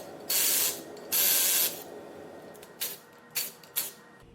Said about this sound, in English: All 6 of these bolts are the 3/8 size. So you can go ahead and take all these out.